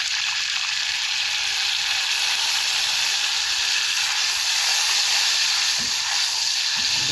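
Vinegar poured onto garlic frying in a pan, giving a steady, loud hiss and sizzle that holds evenly throughout with no talking.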